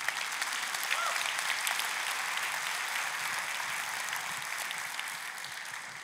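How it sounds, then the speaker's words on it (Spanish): A church congregation applauds during a sermon, a steady broadband wash of many hands clapping at moderate distance, sustained evenly throughout with a slight fade near the end. "Un aplauso,"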